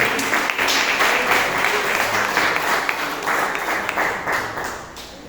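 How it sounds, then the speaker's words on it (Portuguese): A church congregation applauding during a Thursday evening service, a dense sustained roar of many hands clapping close by, easing slightly toward the end, with no talk. "Fica de pé e vamos receber o servo de Deus com palmas para Jesus."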